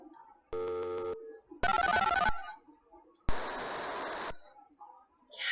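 A telephone rings in the Tex Murphy video game, three separate loud electronic bursts with pauses between them, and a voice speaks quietly in the gaps.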